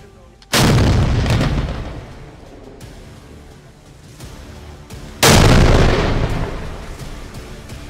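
Sarang and Dhanush artillery guns fire at the army's Long Proof Range test site: two loud, heavy blasts several seconds apart, each followed by a long rumbling decay.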